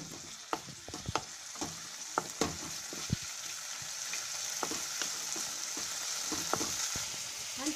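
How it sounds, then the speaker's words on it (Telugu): Tomatoes frying in hot oil for a mint and tomato chutney, with a steady close sizzle throughout and sharp clacks and scrapes of a spoon stirring the pan at irregular moments. "టమాటా కూడా పచ్చి వాసన వచ్చేదానికి చేయించుకోవాలి."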